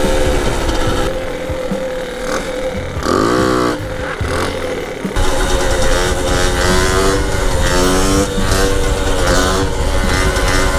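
A moped engine with a sticking clutch revs and accelerates slowly off the line, a loud, continuous buzzing drone whose pitch rises and falls through the clip, with no talk over it.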